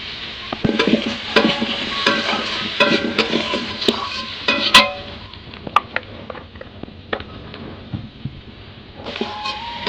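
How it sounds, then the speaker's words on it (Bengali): Fish being stirred in a pan with oil, turmeric and chilli powder, a Bengali home-cooked katla fish dish; steady close scraping and clinking of a spatula over a soft sizzle, with sharp knocks throughout. "হলুদ গুঁড়া লঙ্কা গুঁড়ো দিয়ে কিছুক্ষণ একটু নাড়ি করে নিয়েছি"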